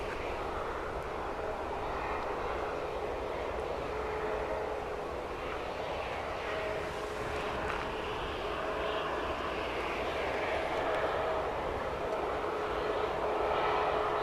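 Aircraft at Manchester Airport, a steady broad jet engine roar heard from a distance, sustained and even throughout with a slight swell toward the end, no voices.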